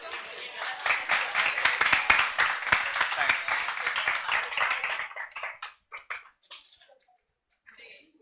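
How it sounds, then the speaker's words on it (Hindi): A group claps rapidly together for several seconds, then the applause thins out to a few scattered claps and stops. "वो मेरे बात पे ताली बजा"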